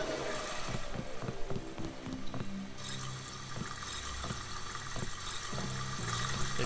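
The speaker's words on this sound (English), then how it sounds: "Who the hell turned the water on?" Water runs from a tap in a bathroom in the video game Deus Ex, a steady broadband hiss with scattered clicks and low thuds, with no talking.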